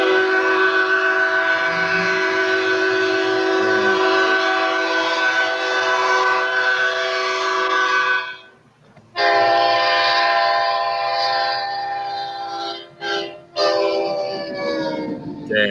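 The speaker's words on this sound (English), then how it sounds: "the units came equipped with a Leslie SL4T air horn." Leslie SL4T air horn on an Amtrak EMD SDP40F locomotive sounding long, loud chime blasts, a steady sustained tone broken briefly near the middle and again near the end before resuming.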